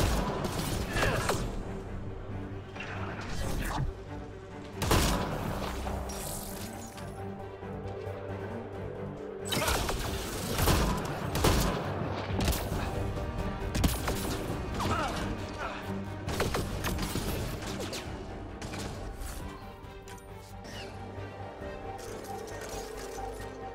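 Dense, continuous video game gunfire from Mass Effect Andromeda, with sharp bursts and heavy impacts layered over a mechanical rattle and background game music, busy and loud throughout.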